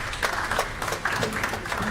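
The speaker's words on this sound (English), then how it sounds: "Let's give it a round of applause" An audience applauds at the 2023 WAIMM annual conference, a brief, dense wash of many hands clapping at moderate loudness.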